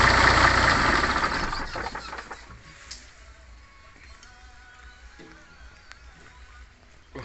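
A Jo8e common rail diesel engine runs loud and rough at first, then fades within a few seconds to a quiet, low rumble and faint ticking as it is switched off.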